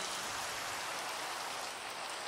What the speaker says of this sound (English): I really hate rain in this game.